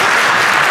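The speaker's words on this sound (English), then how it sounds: "At least clap." Applause from the audience at a 2017 keynote address, a loud, dense wash of clapping filling a brief moment with no talk over it.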